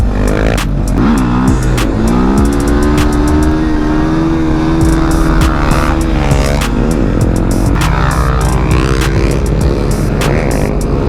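Honda Grom motorcycle engine held on the rev limiter, a loud, buzzing, stuttering drone that wavers and bounces against the limiter throughout, close and continuous with no talk.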